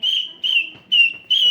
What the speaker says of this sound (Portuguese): é um apito que é um dos instrumentos importantes